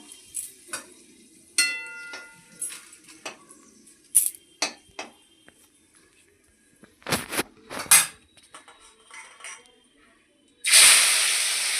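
Bitter gourd pieces go one by one into hot oil with dried red chilli, each making a sharp crackle or pop over a quiet background, before a loud, sustained hiss of frying swells near the end.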